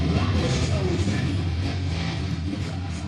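A full-band heavy metal mix plays loud and dense, with distorted guitars, thick bass and crashing cymbals churning steadily through the whole stretch, no voices over it.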